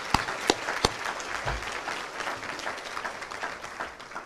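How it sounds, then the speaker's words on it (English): Applause from an audience at a volunteer appreciation tea, a steady patter of many hands that starts with a few sharp claps and then thins out slightly toward the end. "I think I'm going to give her an applause."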